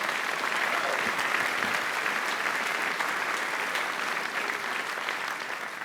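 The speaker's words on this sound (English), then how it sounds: "How about that? A round of applause for him." A large audience at a U.S. Marine Corps birthday event gives a sustained round of applause, a dense, steady wash of many hands clapping that holds its level for several seconds before easing slightly, no speech over it.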